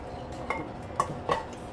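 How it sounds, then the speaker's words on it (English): A spoon stirs a cornstarch and sugar mixture into blueberry liquid in a pot, making a few light clinks against the metal over a quiet kitchen background. "And just stir this into our liquid."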